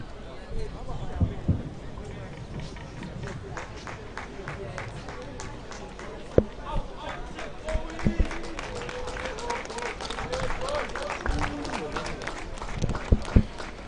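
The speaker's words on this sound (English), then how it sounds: "The cheer that you might be hearing in the background is from the DHS students" Crowd of Durban High School students cheering at a schools rugby match against Maritzburg College, a steady distant roar with scattered sharper shouts, under the near voice of a commentator talking throughout.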